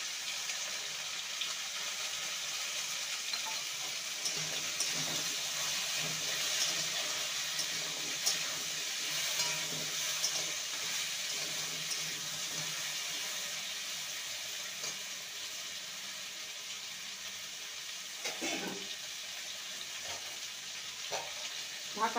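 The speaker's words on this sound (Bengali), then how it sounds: "পাওয়ার কমিয়ে কচু আর আলুটাকে ভালো মতো ভেজে নিতে হবে।" Taro root and potato frying in a pan with turmeric and salt, a steady soft sizzle that carries on evenly throughout, with a few faint clinks near the end.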